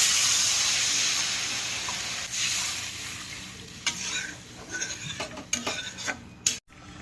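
Water poured into a hot pan of Bengali puti fish curry masala, a loud broad hiss and steam burst easing into a bubbling simmer with a few clinks of a spoon against the pan.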